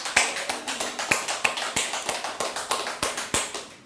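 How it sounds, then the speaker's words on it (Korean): A church congregation applauds in quick, even, rhythmic claps that hold a steady beat, filling the room without voices. "하나님께 영광의 박수 올려드립니다"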